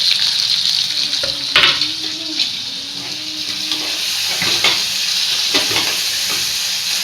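Tomatoes and coriander hit hot oil in a pan for chicken curry, giving a loud, dense sizzle with scraping stirs and clattering utensil strokes throughout, no voices.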